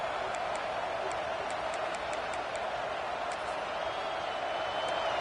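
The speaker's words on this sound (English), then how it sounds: "this crowd is fired up. Listen to this noise here." Football stadium crowd roars in a steady, dense wash of cheering noise with scattered whistles and shouts, sustained and loud throughout, with no distinct talk over it.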